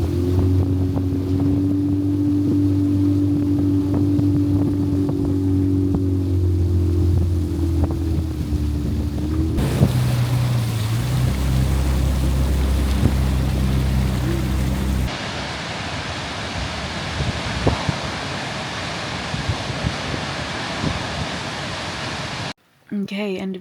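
Motorboat ride across Arctic water toward a waterfall, with a steady droning engine, heavy wind buffeting the microphone and rushing water. The engine tone shifts partway through before the ride continues, and voices are faintly present.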